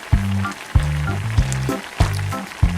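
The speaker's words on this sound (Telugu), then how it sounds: "ఉల్లిపాయలు అయితే గోల్డెన్ కలర్లోకి వచ్చే వరకు అయితే వేపుకోవాలి." Onions fry in a pan with salt for a mutton curry, loud close sizzling broken by regular spatula knocks against the pan, about five strokes in quick rhythm.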